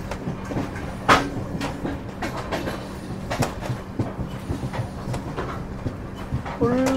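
A train runs along the Konkan Railway through forested country near Adavali, Maharashtra, its wheels clattering in a rhythmic clickety-clack with scattered metallic knocks, heard from on board.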